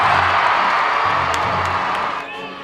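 A basketball crowd erupts in loud, sustained cheering and whooping with scattered clapping after the opening score, the roar holding steady before easing slightly at the end.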